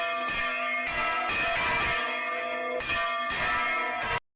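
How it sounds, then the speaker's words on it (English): Church bells ring in loud, overlapping peals with strong harmonic overtones, swelling in repeated waves of strikes and cutting off abruptly at the end. "it's literally just footage of bells ringing"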